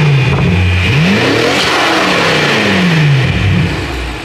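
A BMW X5M fitted with RK intakes revs loudly and close, the engine climbing and falling through repeated throttle blips before settling back toward idle.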